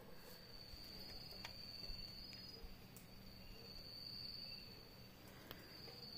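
Crickets chirp steadily at night in a quiet setting, a continuous faint high trill with a few sharper insect calls over a low ambient hush and no voices.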